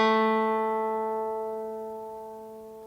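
A single guitar string plucked once, its clear harmonic tone ringing steadily and fading gradually over a few seconds, alone with no talk.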